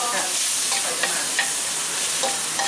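Minced pork with holy basil stir-fried dry in a pan at a roadside spot in Chiang Khong, with a steady sizzle and scraping stir strokes throughout.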